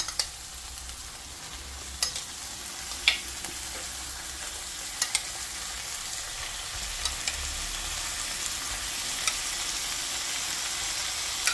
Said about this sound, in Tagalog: pwede nang ilagay ang ito, luya and then sibuyas. Tapos ilagay natin ang ating pagi.